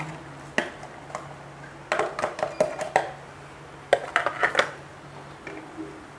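Tomato and spring onion go into a pan of Gresik-style asem-asem chicken and tofu broth, giving a run of soft clattering knocks and scrapes with a steady low hum beneath, no voices.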